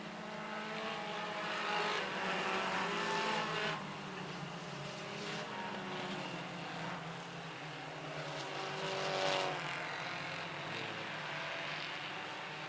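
Race cars run three wide on a track, their engines a faint, steady, distant drone that swells slightly as the pack passes.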